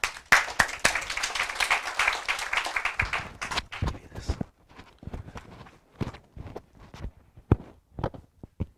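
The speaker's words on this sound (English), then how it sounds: "So please give a warm round of applause" A room of listeners applauding to welcome a speaker at a seminar: a brisk burst of many hands for about three seconds, then it thins to a few scattered, sharp claps before fading out.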